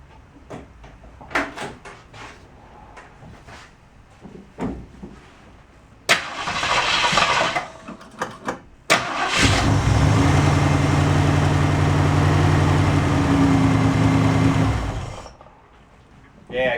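A 1967 Ford Mustang being woken after long storage cranks and catches, then idles in a loud steady rumble for several seconds before shutting off. Scattered knocks and clatter come before it, and a short burst of cranking is heard partway through.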